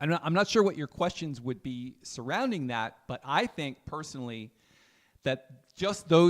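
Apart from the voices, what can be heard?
No everyday noises stand out.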